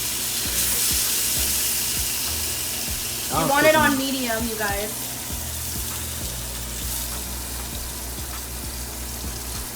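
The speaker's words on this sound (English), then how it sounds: "Woo, it is sizzling." Enchiladas sizzle in a hot frying pan with oil, a steady hiss lasting the whole stretch, while a voice speaks briefly in the middle.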